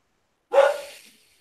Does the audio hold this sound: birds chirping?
no